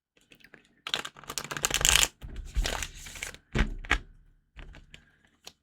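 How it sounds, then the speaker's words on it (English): A deck of tarot cards is shuffled close up in quick bursts of riffling, flapping and tapping, with short pauses between rounds and no talking. "Hold on. I'm going to shuffle these."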